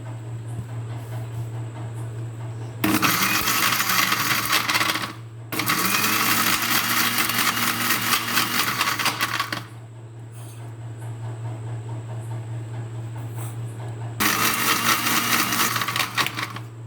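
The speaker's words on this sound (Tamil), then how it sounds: "இப்போ வந்து அரைக்க போகிறாங்க" An electric blender grinds milk and chocolate into a milkshake in three loud, whirring bursts separated by short pauses, with a steady low hum running underneath throughout.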